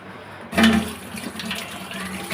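Tap water suddenly starts and runs steadily into a sink while fresh garden culantro (bilati dhonepata) leaves are rinsed under it, a close, rushing splash with small shifts as the leaves are handled.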